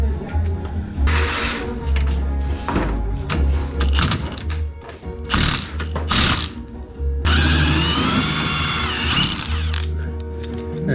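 Loud bursts of a pneumatic impact wrench hammering loose lower control arm bolts on a 1996–2000 Honda Civic, several rattling runs separated by clunks and tool handling, ending in a long sustained whir.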